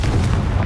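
A Confringo spell explosion in the Hogwarts Legacy video game: a short, dense low boom with rumbling tail, moderately loud and continuous across a brief moment, with no voices.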